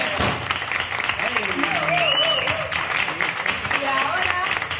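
Applause from guests at a family First Communion celebration, a steady wash of clapping lasting throughout, with voices and chatter mixed in over it.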